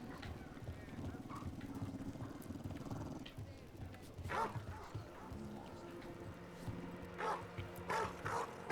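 A dog in Dragon Age: The Veilguard gives a few short barks and yips, loud bursts standing out over game footsteps and ambient sound, with a person talking intermittently.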